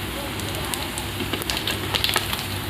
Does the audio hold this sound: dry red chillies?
yes